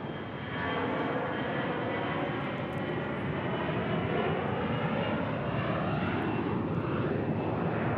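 An American Airlines Airbus A321 jet at Phoenix Sky Harbor airport gives a steady, continuous engine roar that holds evenly throughout.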